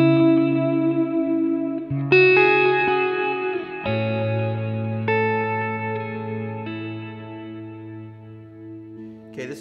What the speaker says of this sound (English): So there's my reverse mix.